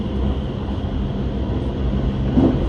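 Limited express Hida train running at speed on the JR Kyoto Line outer track, heard as a steady low rumbling roar of wheels and motors from inside the carriage.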